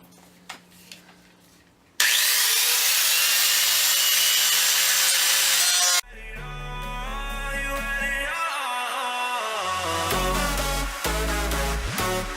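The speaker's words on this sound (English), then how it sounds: "I got me a grinder. We're going to grind the rest of those off." An angle grinder cuts into metal truck parts inside a shed during a drift truck transmission swap, starting with a sudden loud, harsh, sustained whine. The grind stops after a few seconds, and other noisy sounds follow.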